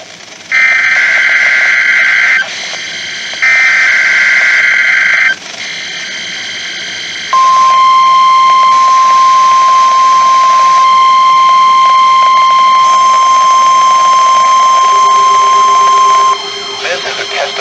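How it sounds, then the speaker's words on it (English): A National Weather Service weather radio warning alarm, preceded by loud, piercing data-burst tones and then a long, steady, shrill attention tone that holds for several seconds, sounding close, harsh and continuous. "This is a test of the National Weather Service weather radio warning alarm"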